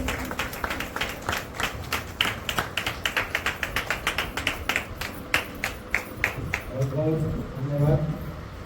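Applause welcoming a speaker at a senior trainers' conference in a hall, a few hands clapping in a steady, fairly quick rhythm for several seconds before a voice begins talking near the end.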